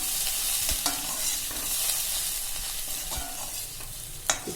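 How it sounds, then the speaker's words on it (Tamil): Green beans are stirred in a frying pan with soya dal for a Tamil usili dish, giving a steady soft sizzle broken by a few sharp scrapes and knocks of the spoon against the pan. "பீன்ஸும் சேர்த்து ஒரு 3 நிமிஷம் நல்லா கலந்து விட்டாச்சு"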